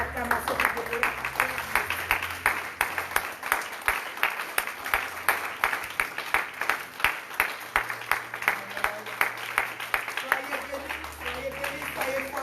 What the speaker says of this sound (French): Est-ce qu'on peut acclamer le Seigneur?